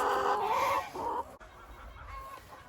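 Chickens cluck up close on a winter pasture farm holding around 800 birds, a few short throaty clucks and murmurs over low background noise.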